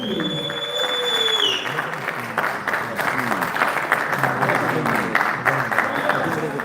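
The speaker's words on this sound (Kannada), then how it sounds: "ದಯವಿಟ್ಟು ಚಪ್ಪಾಳೆಯೊಂದಿಗೆ ಸ್ವಾಗತಿಸಿ ಅಶ್ವಿನಿ ವೀರ್ ಮ್ಯಾಮ್ ಆನ್ ಸ್ಟೇಜ್." Audience applause at a Kannada film press meet as a costume designer and executive producer is welcomed on stage, a steady dense clapping filling the room throughout, with some voices mixed in.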